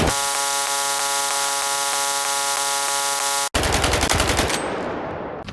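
Rapid automatic gunfire from a weapon in S.T.A.L.K.E.R. 2 shooting at gear, a steady mechanical burst for about three and a half seconds, then a sharp cut to a louder, noisier round of shots that fades out.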